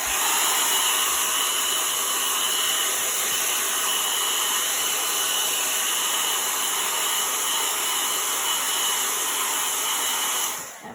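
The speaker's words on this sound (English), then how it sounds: "let's hit it with blow dryer" Blow dryer whirring at full blast over a chalk transfer on a pallet board, a loud steady airy roar that runs unbroken and cuts off at the end, with no talk over it.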